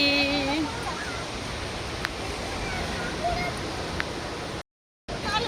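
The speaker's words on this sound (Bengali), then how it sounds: "ঢেউটা দেখো" Steady broadband surf of sea waves washing onto Mandarmani beach, loud and continuous with a short dropout near the end, while people chatter and call out faintly over it.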